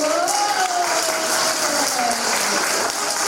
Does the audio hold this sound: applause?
yes